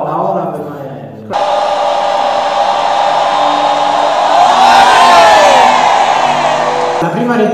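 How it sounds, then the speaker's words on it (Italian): Loud, sustained applause with cheering and whoops for Mariella, a dense roar of clapping that swells and holds for several seconds, with a voice briefly heard before it starts. "Un applauso per la ora, per Mariella"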